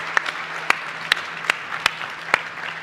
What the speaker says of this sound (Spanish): les pido un aplauso grande para Rafa y Pau